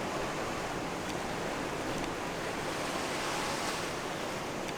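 Surf washing onto a shoreline on a cold, windy day as the tide goes out, a steady, dense roar of breaking waves with wind buffeting the microphone and no voices.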